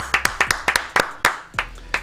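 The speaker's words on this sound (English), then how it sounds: "Round of applause, by the way, everybody in the room." A few people in a room clap sparsely, about a dozen sharp separate claps over two seconds with uneven rhythm, close and dry, rather than a full sustained ovation.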